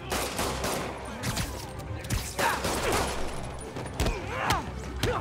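Bursts of gunfire from thugs in Spider-Man (2018), loud rapid volleys and single cracks mixed with fight clatter and shouting voices.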